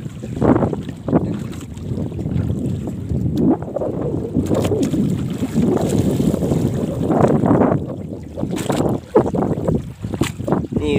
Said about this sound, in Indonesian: Angin kencang guys. Ini kencang.